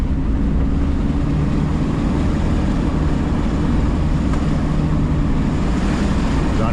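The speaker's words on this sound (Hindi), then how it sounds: "गाड़ी की आवाज से आपको लग रहा होगा कि गाड़ी का कितना जोर लग रहा है।" A car climbs a steep, rocky off-road mountain track toward Kalam in Swat, its engine labouring under load in a steady low drone that lasts throughout without pause.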